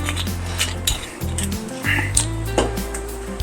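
Close, uneven clinks and scrapes come from a utensil stirring coq au vin, chicken braised in red wine, around a pot. A low hum runs beneath.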